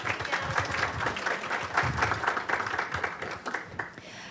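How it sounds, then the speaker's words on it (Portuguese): Audience applause fills a hall at the Secovi 2024 convention in São Paulo, steady dense clapping from a crowd that holds for several seconds after a guest is called to the stage. "Uma salva de palmas para ela,"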